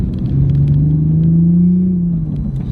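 A Toyota Supra roadster in sport mode accelerates hard, its engine note rising steadily in a loud, close, continuous pull with no talking over it.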